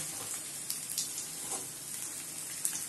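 Ragi adai frying on a pan and being flipped with a dosa spatula gives a steady, close sizzling hiss with a few faint clicks and taps scattered through it. No one speaks.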